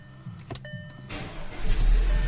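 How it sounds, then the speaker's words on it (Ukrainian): An Audi A4 2.0 TSI, just repaired after injector cleaning, cranks briefly, catches and fires up, then settles into a steady, rising engine note that grows louder toward the end. "Зараз продемонструю, як двигун запускається та працює."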